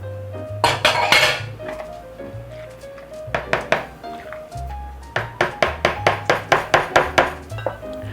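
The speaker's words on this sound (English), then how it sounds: "I'll add the balance of the cheese in it." A spoon mixes cheese into macaroni in a metal pot, making close, clanging scrapes and knocks. These build into a quick, rhythmic series of metallic taps against the pot near the end.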